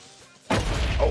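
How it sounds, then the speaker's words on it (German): An explosion in the Minecraft video game bursts in abruptly after a quiet stretch and sustains a loud, broad, rumbling blast to the end. "Komm hier explodieren lassen."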